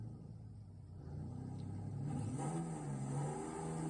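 A Mercedes X-Class pickup engine revs in the racing game Forza Horizon, a faint low rumble that swells in pitch and loudness midway, steady and continuous.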